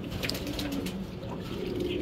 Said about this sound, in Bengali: এটা হলো মেল কবুতর হবে।